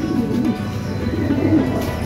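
Racing pigeons cooing as they return to the loft: soft, low, continuous throaty coos rolling on close by with a steady murmur underneath, no voices.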